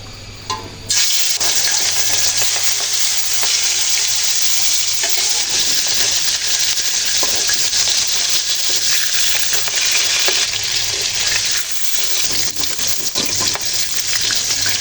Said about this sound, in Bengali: কড়ের তেল একদম গরম হয়ে গেছে মাছগুলো ভেজে নেব